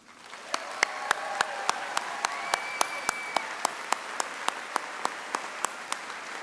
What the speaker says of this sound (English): Applause for the faculty and staff.